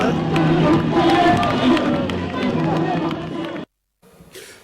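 Crowd lining a route and cheering a passing military column of defence and security forces: loud, dense clamour of many voices with shouts and running feet, continuing strongly before cutting off abruptly near the end.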